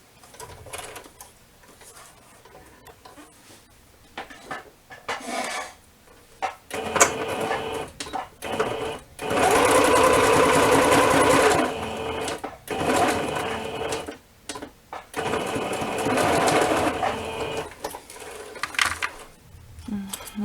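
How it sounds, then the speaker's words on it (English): A sewing machine zigzag-stitches fabric in bursts of rapid mechanical whirring, the longest run in the middle, separated by pauses, with faint talk in the gaps. "I want to sew this down, so I will zigzag it that way"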